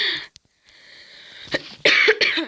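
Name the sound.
cough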